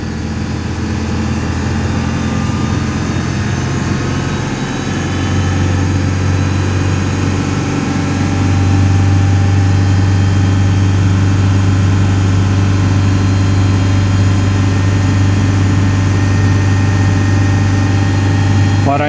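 Engine of a 2002 Ford F-150 with a 4.2L V6 and a fault, running steadily near the mic, with a droning hum that climbs to a higher, louder held speed partway through.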